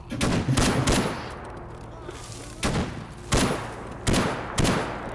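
Gunfire in the shooter S.T.A.L.K.E.R. Anomaly: several loud, close bursts of shots spaced irregularly across the moment, with quieter gaps between them and no speech.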